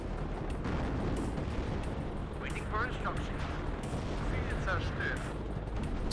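Artillery fire booms and rumbles continuously in WARNO, a heavy low roar of distant impacts and shelling filling the background while voices talk over it.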